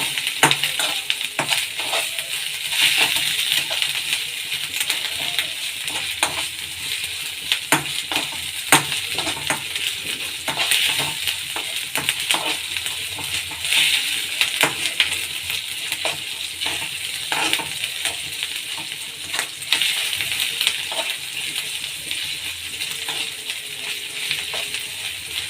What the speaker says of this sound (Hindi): ये अदरक जो है हल्की सी लाल रंग की हो जाएगी, ब्राउन कलर की, तब तक हम इसको भूनेंगे।